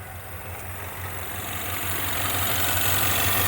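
A Ford Mustang with a replacement engine that runs poorly idles steadily up close, shaking, with a low, uneven throb and a broad mechanical hiss that grows slightly louder.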